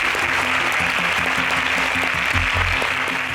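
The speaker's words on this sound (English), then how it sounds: "A round of applause for Zainab" An audience at a televised national agricultural science quiz contest breaks into applause, a dense, steady wash of clapping filling the whole stretch at close, loud level, with a low rumble briefly swelling near the end.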